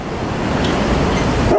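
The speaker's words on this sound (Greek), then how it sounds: "Ενώ σχεδόν όλοι έχουν σκύλους φύλακες." A guard dog barks outdoors at a rural holiday home, the barking mixed into a steady, loud wash of wind or surf noise that runs through the whole short stretch.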